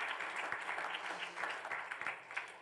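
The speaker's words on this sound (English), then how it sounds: "That's worth applause, isn't it?" Applause during a strategic planning committee meeting, a short run of clapping from a modest group, uneven and close, with a few louder individual claps standing out.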